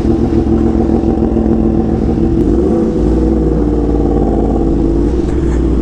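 Yamaha R1M sport motorcycle accelerating on the way to a beach supercar meet, a loud, close, continuous engine roar with a shift in pitch partway through and heavy wind buffeting.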